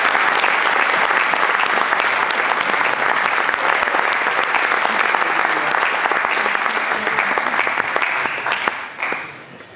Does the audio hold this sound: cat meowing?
no